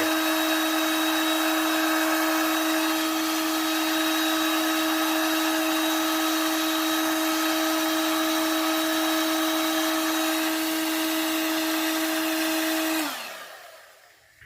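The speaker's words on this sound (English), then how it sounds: "doing it with the heat gun heats the resin up and really gets it moving" A heat gun blows steadily on epoxy resin coating a beach-themed tumbler with real sand, a loud constant whirring drone with a tonal whine that holds for about thirteen seconds before cutting off and winding down.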